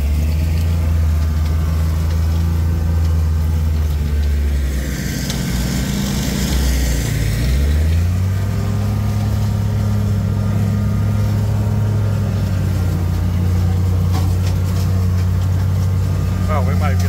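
A side-by-side UTV with a brush mower driving through overgrown brush on rural property: a loud, close, continuous engine drone that dips and climbs again midway, with occasional voices over it.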